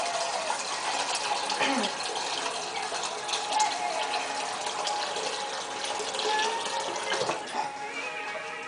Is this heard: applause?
no